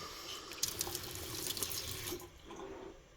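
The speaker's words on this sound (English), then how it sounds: "Engedd csak meg a csapot ott nálad, a meleget." Hot water runs steadily from a tap during a magnesium anode replacement on an Ariston 30-liter, 1500W electric water heater, a continuous close splashing rush with a few brief drips and no talk.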